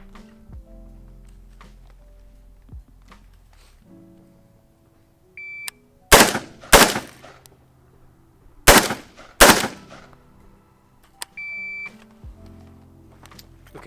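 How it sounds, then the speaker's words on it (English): M16A4 rifle fired in controlled pairs at targets on a range: two pairs of loud, sharp, close shots, each pair tightly spaced, separated by a pause, with quiet stretches and faint electronic beeps before and after. "this drill consists of a controlled pair standing on the left target"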